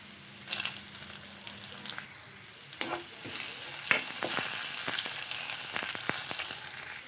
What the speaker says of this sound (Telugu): కొంచెం ఆయిల్ తీసుకోవాలి, జీలకర్ర, తర్వాత దాంట్లో ఎండుమిర్చి వేసుకోవాలి